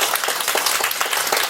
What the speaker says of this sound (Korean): 말씀 전해주신 부모님께 큰 감사의 박수 부탁드립니다